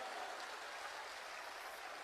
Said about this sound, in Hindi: तो यहाँ की प्रशासन को एक बार ताली बजाकर धन्यवाद जरूर दीजिएगा।